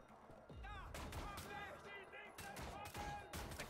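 Gunshots in Wolfenstein: The New Order sound as a busy run of sharp reports under game music and effects, fairly faint, with several distinct cracks spread across the clip.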